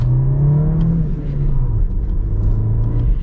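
A manual 2023 VW Jetta's turbocharged engine pulls under acceleration, a loud, close, steady rumble from inside the car with the engine note rising then dipping as it runs on.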